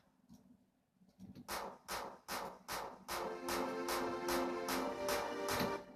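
Hardstyle electronic synth leads build in over a steady beat, with sharp claps hitting at a regular pulse, getting louder and fuller as they go.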